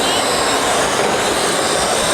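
A small Hst HC-653 toy drone flies indoors in a mall cinema, its propellers giving off a loud, steady broadband whir that fills the whole moment.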